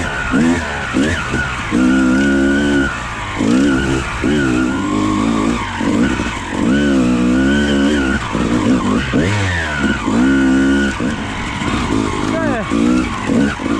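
Dirt bike ridden hard on a track at night, its engine revving and surging in repeated bursts with rising and falling pitch, loud and close throughout, with a rider's voice briefly mixed in.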